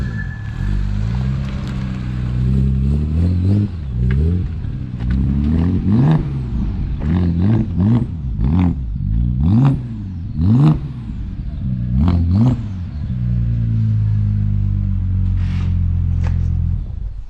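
A turbocharged Audi S5 with a freshly rebuilt engine, new timing and rocker arms, revs repeatedly in close, loud bursts, each rise and fall cycling through a steady idle for the length of the clip.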